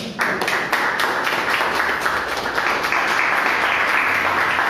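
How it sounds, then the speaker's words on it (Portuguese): A church congregation claps in praise in unison, a rhythmic series of sharp, evenly spaced beats with a loud group tone filling the room for the whole stretch. "Pode sentar e glorificar o Senhor com as palmas que Ele merece."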